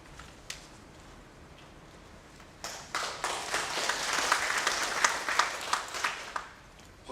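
Applause at a Donghak Peasant Revolution 120th anniversary academic conference as the foundation chairman comes up to speak, starting quiet and scattered, then swelling into fuller clapping with sharp individual claps standing out, moderately distant.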